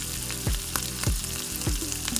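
Onions frying in a pan for soybean pulao give off a steady, close sizzle, broken by sharp scraping stir strokes about every half second. No one speaks.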